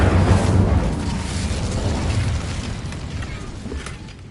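Incendio fire spell blast in a Harry Potter video game, a loud booming burst that rumbles and slowly fades over several seconds.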